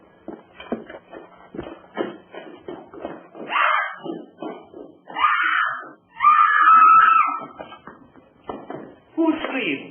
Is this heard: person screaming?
yes